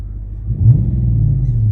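A 2014 Dodge Charger engine revs up from idle, a loud low rumble swelling around the middle and holding steady to the end, close by with no talking.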